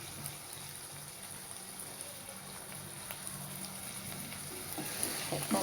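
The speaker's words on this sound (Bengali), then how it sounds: "এখন মশলাটাকে টমেটোর সাথে কষিয়ে নেব" Spice paste fries with tomato in a pan, giving a faint, even sizzle that continues without a break and grows slightly louder at the end.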